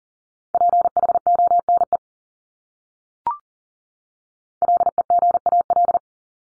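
Telephone dial tone in two steady bursts of repeated short beeps, a second apart, with a brief click between them and silence otherwise, clear and alone.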